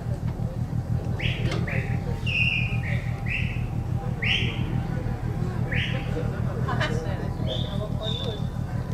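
Pigeons at a club loft in Perama give a series of short chirps and calls at irregular intervals, with voices murmuring faintly in the background.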